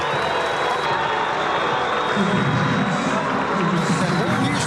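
Brazilian stadium crowd at a Copa do Brasil match between Náutico and Vasco, a loud, steady roar of mixed booing and applause as a player is substituted, with a commentator talking over it.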